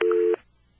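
Incoming-call signal tone from a 1977 NX1-E telephone exchange: a single short, clean electronic beep lasting about a third of a second, then quiet line hiss.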